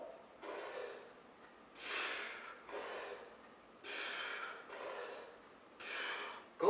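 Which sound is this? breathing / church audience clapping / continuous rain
breathing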